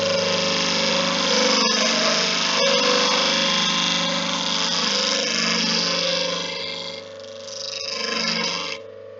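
A stock bench grinder runs steadily with a freshly dressed wheel, its motor hum and whine loud and continuous, with a few brief ticks of contact before it winds down near the end.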